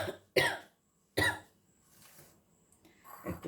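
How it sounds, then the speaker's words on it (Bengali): A person with a cold gives two sharp, close coughs a second apart, then breathes and clears their throat quietly before a third rougher cough. "একটু ঠান্ডা লেগে গিয়েছে, তাই কাশি আসছে।"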